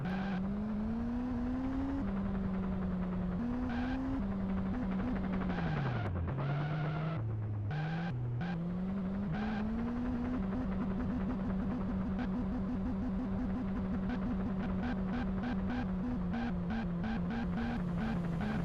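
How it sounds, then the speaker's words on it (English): Car engines in the Lego Racing video game drone as a synthetic, buzzy tone that rises and falls in pitch with revving and shifting, continuous and dense throughout. "Loving these car sounds."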